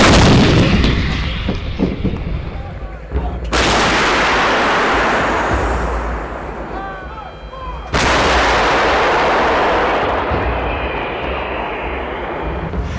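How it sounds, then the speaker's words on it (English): Massive booming blasts from an M109A6 Paladin 155mm self-propelled howitzer, two huge reports spaced several seconds apart, each followed by a long rumbling roll that fades slowly. "When the M109 A6 Paladin 155mm self-propelled howitzer roars, the earth trembles and targets shatter."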